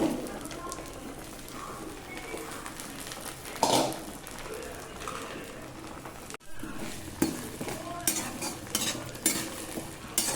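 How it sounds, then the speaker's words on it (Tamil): Onions and garlic sautéing in oil for a Tamil garlic kuzhambu, a soft steady sizzle with spoon stirring and clanking against the pot, plus a few sharper knocks after a brief cut. "வெங்காயமும் பூண்டுமா சேர்த்து நான் வதக்கிட்டு நான் ஒரு பூண்டு குழம்பு மாதிரி தான் பண்ண போகிறேன்."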